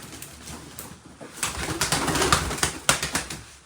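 Pigeons, among them a white-crested female, coo and flutter close by in a busy, uneven stretch of soft calls and wing sounds with no talk.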